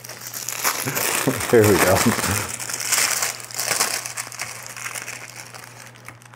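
Packaging for an aircraft trim tab set crinkles and crushes as it is unwrapped by hand, with steady rustling right up close while someone speaks briefly over it.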